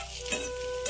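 Okra frying in a pan with garlic and green chilli and being stirred, a loud continuous sizzle with scraping stir strokes close up, no talk.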